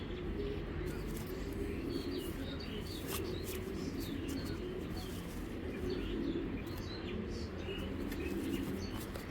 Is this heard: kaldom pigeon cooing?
yes